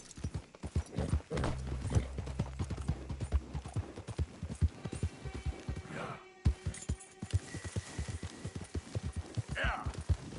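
Horse hooves clip-clop steadily in a rhythmic, close gait while riding in Red Dead Redemption 2, continuing throughout with a brief voice and occasional faint whinny-like sounds.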